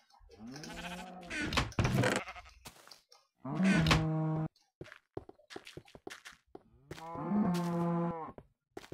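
Cows mooing in a farm video game, three long drawn-out lowing calls separated by short gaps, with quieter clicks and game sounds between them.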